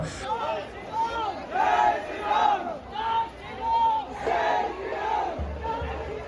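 A large crowd at a Ganesha immersion procession shouts in rhythmic waves of chanting and cheering, rising and falling several times, loud and close.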